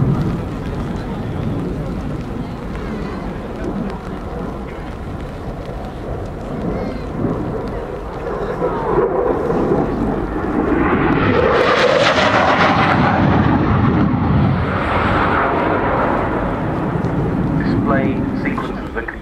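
A Royal Netherlands Air Force F-16 jet at an air show makes a high-speed pass, its roar swelling from a distant rumble into a loud, sweeping rush that peaks and then fades, with a commentator talking over it.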